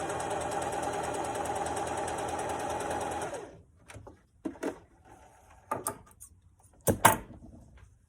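A sewing machine stitches a seam to ease in fabric, running loud and steady for about three seconds before stopping, followed by a few faint clicks and handling knocks.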